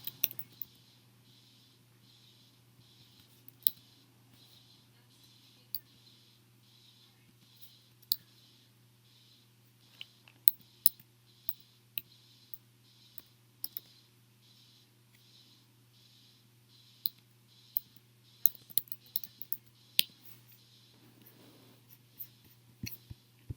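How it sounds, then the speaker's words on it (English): Sparse, faint clicks and taps scattered unevenly across a quiet background, fitting typed answers entered on a computer keyboard for an online worksheet, with a steady low hum and a faint repeating high chirp underneath. "So now I click on the box and I just start typing in my answers."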